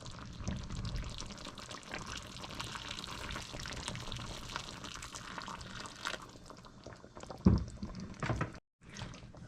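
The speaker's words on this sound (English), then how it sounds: "we're gonna add some water now" Water pours steadily into a pot of Guyanese curry with coconut milk and wiri wiri peppers, a continuous close splashing rush that ends with a few louder sloshes and a brief stop.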